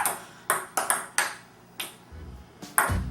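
Ping pong balls strike a table in a rhythmic pattern echoing the Mario theme, about eight sharp, bright pings with short decays, close and clear, ending with a brief low thump.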